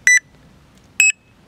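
Starbaits D TEC fishing bite alarm sounding two short, sharp electronic beeps about a second apart, loud and close in otherwise quiet surroundings.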